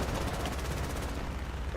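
Panzer IV tank cannon firing an armour-piercing shell in a video game, a dense continuous roar of gunfire and rumble filling the whole stretch at steady loudness with no gaps, no voices.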